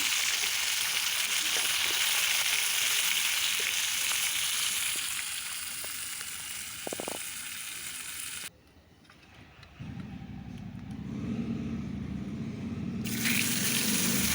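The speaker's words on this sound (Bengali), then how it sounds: "আমি এখন মাছগুলো তাহলে ভেজে নিই" A steady broadband hiss of amude and saiting sea fish frying in oil, loud at first, then briefly dropping to a quieter, duller sizzle before the hiss returns.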